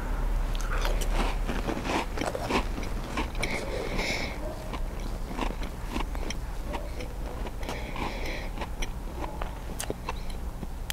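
A bite of Wild Planet albacore tuna being chewed close up, a steady run of soft wet crunches and mouth clicks over a constant background hum, with no talking.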